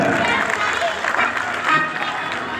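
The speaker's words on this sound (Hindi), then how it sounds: "जोरदार ताली बजा दिया" Clapping at a school event in honour of village guests, a short, busy patter of hands from a gathered audience with crowd murmur and voices mixed in underneath.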